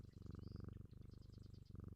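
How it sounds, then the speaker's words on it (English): Rhythmic purring of a petted video-game cat in Strange Antiquities, a steady close, low rumble pulsing in repeated breaths, with a brief high chirpy tone layered above, no talking. "Pet the kitty."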